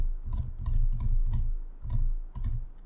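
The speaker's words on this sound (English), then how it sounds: "I'm typing something here" Bursts of keyboard typing, quick clustered key clicks in several short runs with brief pauses between, close and fairly clear.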